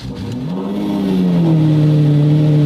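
A car engine, one the owner owns alongside a liking for Lamborghinis, starts up close by, fires and settles into a loud rising rev that holds steady, with no talking over it.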